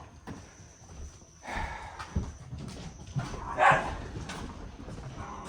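Dogs barking and whimpering near a barn, a few short yaps and muffled woofs scattered over about five seconds, with one louder, sharper bark toward the end, moderately close.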